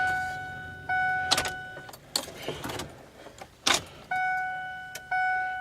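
Cold start on a 1973 Dodge W200 pickup truck engine: repeated bursts of starter cranking separated by steady electronic chimes, with short mechanical rattles between attempts, close and fairly loud.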